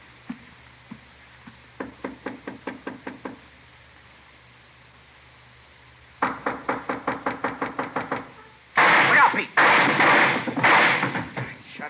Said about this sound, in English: Shot right through the door.